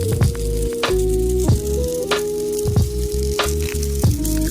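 A bearing spins right beside the microphone, giving a steady close whirring hum with a sharp tick or rattle recurring about every half second, with no voices.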